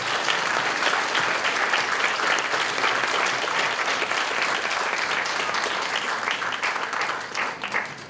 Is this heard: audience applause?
yes